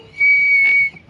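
A person whistles one steady, fairly loud note that holds for well under a second, with no talking around it.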